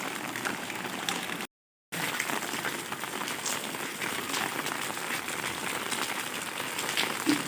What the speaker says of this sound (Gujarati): કેવો વરસાદ પડે